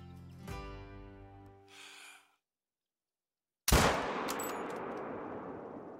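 A single sharp 6.5 rifle shot cracks out at a javelina in the Call of the Wild hunting game, a loud burst trailing into a long reverberating echo after a stretch of silence and a breathy exhale.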